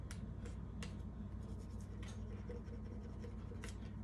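A card smooths vinyl letters onto a jar, giving soft, close, repeated scraping and rubbing strokes at a quiet level.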